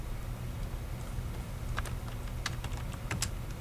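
Quick keyboard typing, a short run of light clicks and taps on a computer keyboard entering text in a dialog box, close and quiet over a steady low hum, with no voices.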